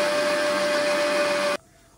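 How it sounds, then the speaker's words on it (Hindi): A kitchen blender whirring loud and steady as it blends aloe vera gel with half a cup of water, cutting off abruptly near the end. "इसको हम ब्लेंड करेंगे बहुत अच्छे से"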